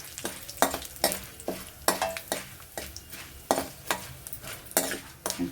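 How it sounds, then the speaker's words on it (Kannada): Curry leaves and dried red chillies fry in hot oil in a pan, giving a steady sizzle broken by regular scraping strokes of a spatula against the metal, close and moderately loud, with no voices. "ಕರಿಬೇವು ಸೊಪ್ಪು ಹಾಕ್ತಾ ಇದ್ದೀನಿ. ಸ್ವಲ್ಪ ಫ್ರೈ ಮಾಡ್ಕೋಬೇಕು"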